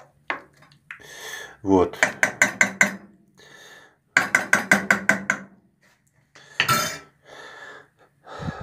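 Minced meat frying with onion in a pan while being stirred, with rapid bursts of metallic scraping and clinking from the utensil against the pan, broken by pauses and a few short spoken words.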